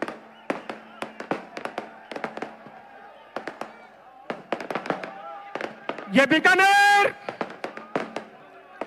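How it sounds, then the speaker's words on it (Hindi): Fireworks at a Rashtriya Loktantrik Party foundation-day rally in Bikaner: sharp, loud bangs burst in quick irregular clusters. A rising whistling shriek cuts through partway, and someone speaks over the blasts. "आतिशबाजी से गुंजायमान हो चुका है।"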